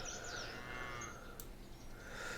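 Cattle in the Viking settlement game Land of the Vikings give a single drawn-out moo, faint and mid-distance over a soft ambient game backdrop.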